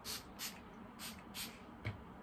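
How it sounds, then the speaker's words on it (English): A small aura spray bottle is spritzed several times in quick succession, short soft hissing bursts spaced about half a second apart, close by and faint in a quiet room. "I think I sprayed it behind me"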